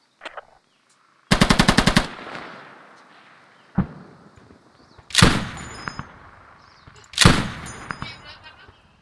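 Machine gun fire in the video game Squad: one rapid, loud burst of closely spaced rounds, then a sharp single crack and two heavy booming shots with echoing tails, spread across the clip.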